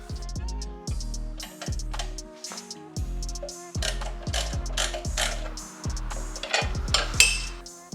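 Ratchet wrench tightening the front mounting bolts on a Lowbrow Customs motorcycle oil tank, a close series of rapid clicking bursts with short pauses between strokes, no talking.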